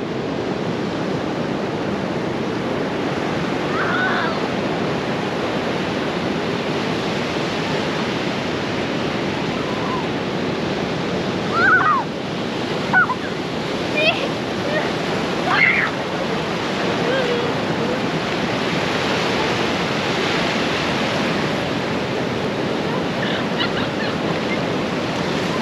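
Ocean surf washing onto a wild beach on Tasmania's west coast near Trial Harbour, a steady broadband roar of breaking waves with wind, continuous throughout with a few brief louder splashes.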